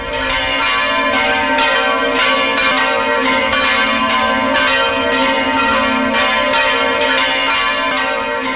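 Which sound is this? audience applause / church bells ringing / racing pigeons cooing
church bells ringing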